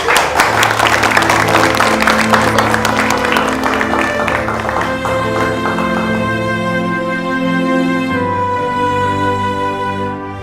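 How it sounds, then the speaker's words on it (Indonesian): Audience applause at a children's performance event fades out under rising music with sustained tones, the clapping strongest at first and giving way to the music. "Kita tepuk tangan untuk Tiara."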